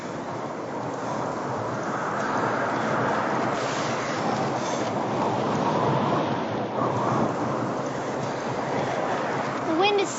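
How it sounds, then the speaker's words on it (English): Loud wind roars steadily across a stormy coast, with surf-like rushing and gusting buffets that stay dense and unbroken throughout, very close and dominant. "The wind is so loud, it sounds almost human."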